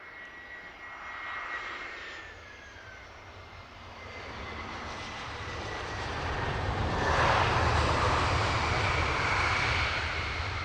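A plane approaching London Luton Airport, its engine roar building steadily from a distant rumble to a loud, broad drone over about ten seconds, with no voices.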